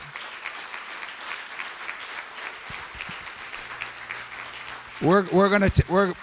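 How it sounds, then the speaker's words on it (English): Sustained audience applause fills a symposium hall, a dense steady patter of many hands for about five seconds before a voice cuts in over the tail end. "let's give him one big round of applause"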